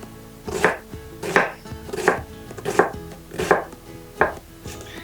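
A knife slices vegetables thinly on a cutting board: six evenly spaced crisp chops, each a short crunch ending in a knock on the board, close and clear with no talking.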